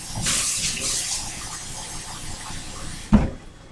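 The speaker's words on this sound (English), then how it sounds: "I'm going to add just a little bit of water" A little water is poured into a cooking pot, producing a brief splashing trickle early on, followed by quieter kitchen handling and a sharp clunk near the end.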